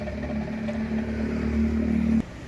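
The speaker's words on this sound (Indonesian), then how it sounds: "Nih, geber-geber pun masih mantep, masih kenceng ya." Engine of a former angkot minivan revving steadily at close range, a sustained low drone with a slight rise before cutting off abruptly near the end.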